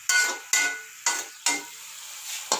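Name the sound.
frying ingredients in a pot for matar pulao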